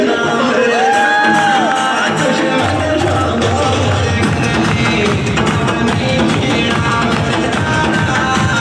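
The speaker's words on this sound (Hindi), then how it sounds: "एक बार जबरदस्त ताली होनी चाहिए दोस्तों" A large audience at a motivational event fills the space with loud, sustained cheering, whooping and crowd noise that holds steady for the whole stretch, with a brief whistle-like tone near the start.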